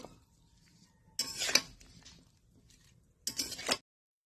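Onions with green chillies and garlic being stirred in a pot, two distinct bursts of scraping and clinking utensil-on-metal, each under a second, separated by near silence.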